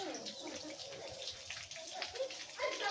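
Hands washed under running tap water at a sink, a steady splashing hiss with small bursts throughout, close by; a voice speaks softly over it.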